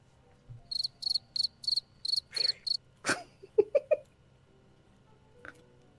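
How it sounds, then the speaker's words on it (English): A cricket trills in a series of evenly spaced, bright, close chirps, followed by a few sharp knocks and thumps in an otherwise quiet room. "Crickets."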